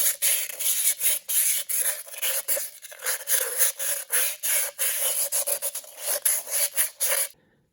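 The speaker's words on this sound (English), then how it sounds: "Got the rust on there, so we'll start cleaning that. Take some emery cloth and start going for it." Emery cloth sanding rust off a 1948 Ford 337 flathead V8 cylinder, a harsh rasping scrub in quick repeated back-and-forth strokes, close and loud, stopping abruptly at the end.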